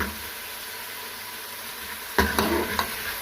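Onions fry in oil in a pan, a soft even sizzle that turns louder and busier near the end as a spatula scrapes and stirs them, a couple of sharp knocks included.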